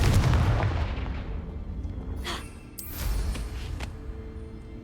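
A booming Confringo blasting spell in Hogwarts Legacy, a loud explosive burst that decays, followed by softer crackling blasts and a second rumbling impact.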